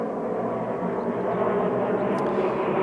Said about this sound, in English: aeroplanes.